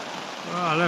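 Heavy rain drums steadily on a leaking tent, a dense continuous wash that swells louder toward the end, with a voice speaking over it.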